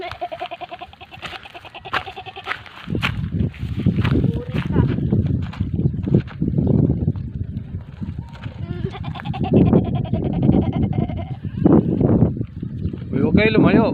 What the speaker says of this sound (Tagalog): ito binibidyo ko yung kambing